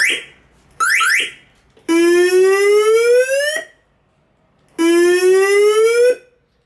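An electronic siren rings loudly in bursts: two short chirps, then two long rising wails separated by silence.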